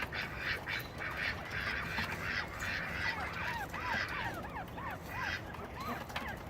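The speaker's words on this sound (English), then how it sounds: "They're mountain quail, native to my state." Mountain quail give a quick run of faint, rising chirped calls, repeated several times in a row over a low outdoor background hum.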